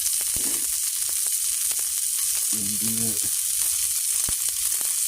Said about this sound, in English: I hear them sizzling.